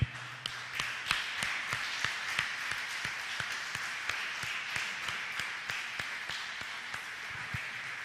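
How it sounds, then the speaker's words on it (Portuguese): A church congregation applauds during a Portuguese-language sermon, with steady, dense clapping that continues for the whole stretch and sharp individual claps standing out over a broad rustling wash. No one speaks. "Quem pode aplaudir a Jesus?"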